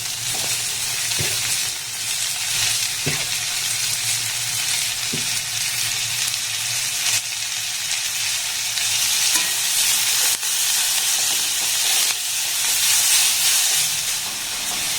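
Beans and carrots fry over a low gas flame, giving a steady, close sizzle and hiss with occasional soft stirring scrapes throughout.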